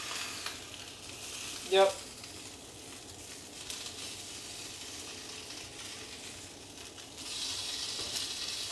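Meat sizzling in a pan and scraped with a wooden spoon, a low steady frying hiss with occasional soft scrapes, one brief clink, and a short spoken word near the start.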